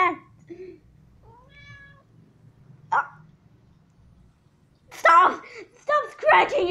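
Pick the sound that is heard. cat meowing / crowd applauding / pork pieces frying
cat meowing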